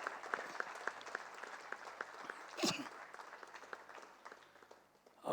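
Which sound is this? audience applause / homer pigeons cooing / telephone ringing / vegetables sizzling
audience applause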